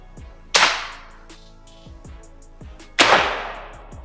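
A Blldox Xmax plenum air rifle fires two sharp, loud cracks, each with a short ringing decay, separated by a few seconds of quieter mechanical ticks and faint background hum.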